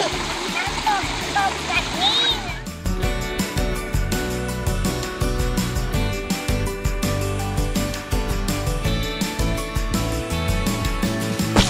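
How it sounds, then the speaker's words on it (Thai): A waterfall at a stream play area in Suan Phueng, Ratchaburi, gives continuous loud splashing and rushing water close by. Children and adults talk excitedly over it. "เออมีน้ำตกด้วย"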